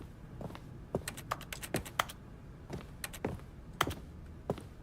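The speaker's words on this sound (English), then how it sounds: "it makes a keyboard sound when you do something, like you click an action" Keyboard clicks from the video game The Stanley Parable, a quick irregular run of crisp key taps, faint and close, with brief clusters and pauses between them.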